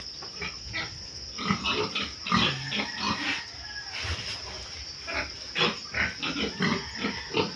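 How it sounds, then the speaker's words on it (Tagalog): Pigs on a farm grunting and squealing in repeated bursts close by, with a constant high insect-like hiss running underneath. "Bibisitahin po natin ang baboy"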